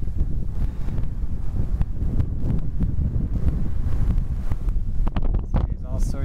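Strong wind at the top of the Shickshinny Fire Tower buffets the microphone in a steady, heavy low rumble and roar, with gusty fluctuations throughout.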